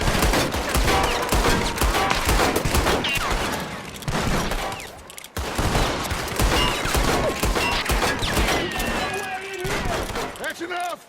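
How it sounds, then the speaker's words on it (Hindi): Repeated bursts of rapid gunfire at a door during a train heist in Red Dead Redemption 2, loud and close, with brief pauses between volleys and voices shouting underneath. "हम इनके डोर पे इतनी गोलियां चलाएंगे कि इन्हें आवाज़ तो आए कि बाहर कौन है"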